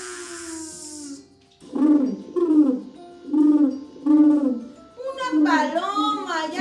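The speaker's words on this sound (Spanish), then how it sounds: "Una paloma. ¿Ya la escucharon?" Recorded call of a dove or pigeon played back in a classroom listening game, a series of five or six low, rounded, evenly spaced coos, fairly loud and clear.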